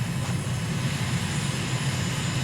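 Steady aircraft engine drone from a flight simulator plane flying upwind after takeoff in Uganda, a constant close, loud hum with an even low rumble throughout.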